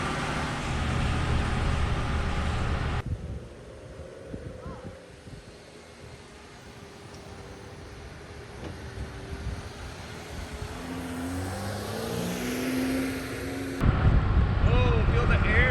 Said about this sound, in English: nobody's gonna hear a word we're saying in the wind